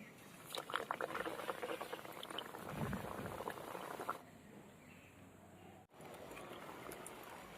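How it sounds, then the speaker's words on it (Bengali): Chicken singaras fry in hot white oil in a wok, a dense bubbling sizzle that is moderately loud and close, then thins to a quieter simmer partway through, with a brief dropout near the end. "সিঙ্গারাগুলো ভেজে নেবো।"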